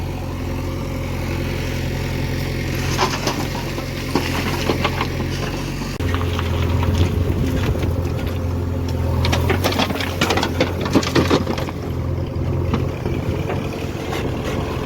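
A tractor engine runs steadily nearby during loading, a loud low chugging drone that shifts pitch partway through, with clanking and rattling on top.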